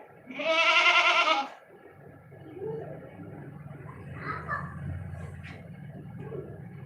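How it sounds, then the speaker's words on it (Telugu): A goat lets out one loud, drawn-out bleat close by, followed by quieter farmyard background noise. "మేక అరుస్తున్నది చూడ నీళ్ళు ఏమైనా పెట్టండి"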